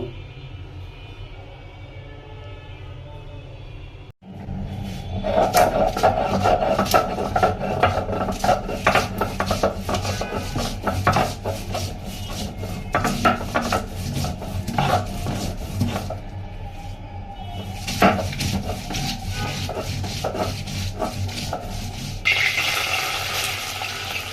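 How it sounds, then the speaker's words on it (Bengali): Green chillies, ginger, garlic and onion are ground by hand on a traditional grinding stone, a close, continuous rhythmic rasping and rubbing that starts after a few seconds of quieter kitchen background and runs steadily to the end. "কাঁচামরিচ, আদা, রসুন, পেঁয়াজ, এটা আমি শিলপাটাতে বেটে নিব।"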